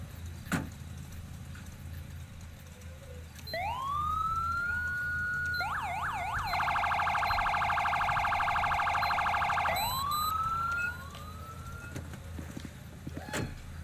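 A modded standard LSPD police car siren in a video game: a long rising wail, a couple of quick yelps, then a sustained loud rapid phaser before the wail returns and fades, with no talking over it.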